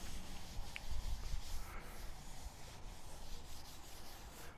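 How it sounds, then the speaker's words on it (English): A paper towel wipes oil back and forth across a griddle surface, giving a soft, steady rubbing swish close by with no talk. "And then back and forth just to make sure the whole entire surface is clean and oiled thoroughly"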